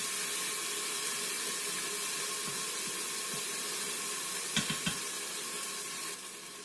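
Minced garlic sizzling in oil inside an Instant Pot, a steady quiet hiss running throughout with a few soft stirring knocks near the end.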